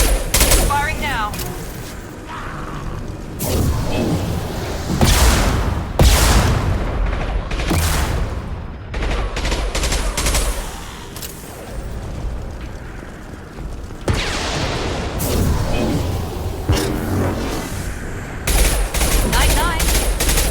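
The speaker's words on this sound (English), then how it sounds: "Firing now." Gunfire and explosions in the video game Mass Effect 2, with repeated loud bursts of shots and booms and a voice speaking between the blasts.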